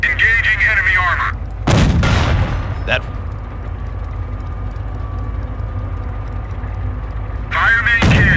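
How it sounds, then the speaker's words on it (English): In a video game, a Sherman tank's main cannon fires two heavy blasts that boom close together, followed by a lower rumble of engine noise, with brief speech before and after. "Fire main cannon."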